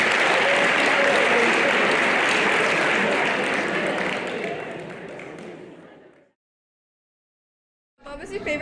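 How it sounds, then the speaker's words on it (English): Applause from a graduation audience fills the space, a dense, loud wash of clapping that holds steady for several seconds, then thins and fades into silence before sound briefly returns at the end. "Give them another big round of applause."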